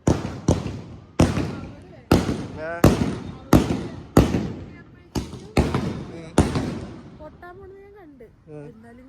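Nine or so loud firecracker bangs burst in quick succession, each ringing out and echoing, followed by a voice speaking briefly at the end.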